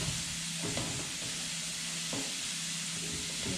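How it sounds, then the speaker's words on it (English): Hakurei turnips sear in a hot pan, giving a steady close hiss and sizzle with a couple of soft knocks as they are moved. "sear it long enough to get a nice little brown sear or char marks on your turnips"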